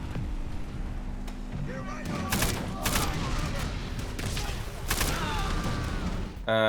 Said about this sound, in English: Now here is a Type 99 machine gun.